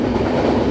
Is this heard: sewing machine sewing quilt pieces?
no